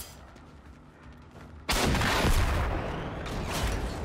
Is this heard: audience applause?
no